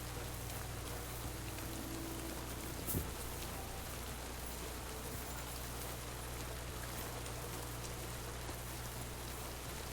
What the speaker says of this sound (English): It's raining quite hard.